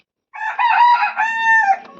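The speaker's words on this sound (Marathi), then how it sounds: "सकाळ सकाळची कोंबडी उघडायला सुरुवात झाली आहे बघा" A rooster crows once, loud and close, a long strained cock-a-doodle-doo against a quiet background.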